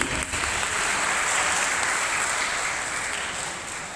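Applause during an online class: a steady, dense clapping that holds evenly for several seconds and fades slightly at the end.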